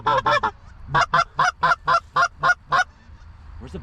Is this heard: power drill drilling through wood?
no